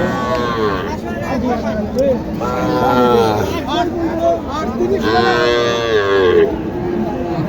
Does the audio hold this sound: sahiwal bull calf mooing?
yes